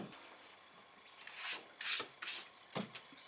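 A battery is scraped and knocked into its tray in an HZJ75 Landcruiser during a dual battery install, giving a few close, short rubbing and grinding bursts between quieter moments.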